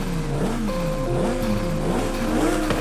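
Revving Lamborghini Huracan Tecnica with an aftermarket exhaust in Forza Horizon 5, its engine note climbing and dropping through repeated throttle blips, loud and close with a throaty, raspy edge.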